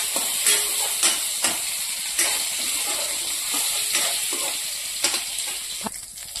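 Bay leaf, dried red chili and onion sizzle hard in hot oil in a kadai, a steady loud crackling hiss with sharper pops bursting through, and no voices.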